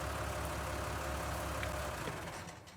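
A farm vehicle engine idling in the Farming Simulator 19 game, a steady low rumbling drone, fairly quiet and continuous, fading slightly at the end.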